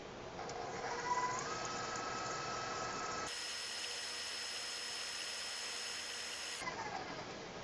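Stand mixer blending a small batch of praline biscuit dough, a steady motor whir that runs continuously throughout at moderate level, with no voices.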